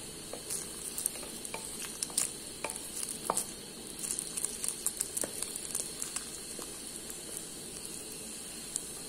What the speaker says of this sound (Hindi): इसको मैं फ्राई करूंगी।